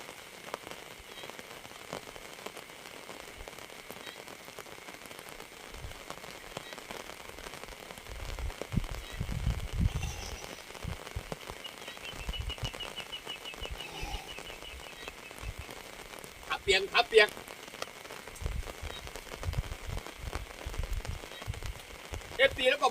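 Heavy rain falls at night at a fishing spot, with a continuous patter on the surface and a few louder bursts toward the end.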